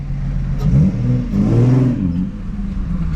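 A 2024 Ford Mustang GT engine revving up close, a loud deep rumble that rises and falls over a few seconds.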